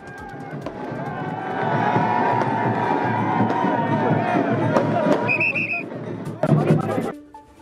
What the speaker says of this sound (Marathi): मुंबई पदवीधरमधून ठाकरे गटाचे अनिल परब विजयी झाल्यानंतर शिवसेना कार्यकर्त्यांचा एकच जल्लोष।